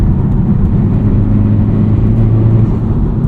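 A tuned FL5 Honda Civic Type R pulls hard in fifth gear from about 3,000 RPM, its engine droning loud and close with a steady deep hum and rising tone inside the cabin.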